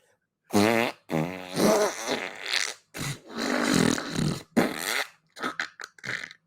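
A string of loud, long, buzzing fart noises comes in several separate blasts, some drawn out and wavering, then a few shorter sputters at the end.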